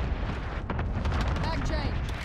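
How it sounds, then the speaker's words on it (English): A cluster strike in a shooter video game brings a dense run of rumbling explosions and booms, heavy and continuous, with voice chatter mixed over the blasts. "Allied cluster strike incoming."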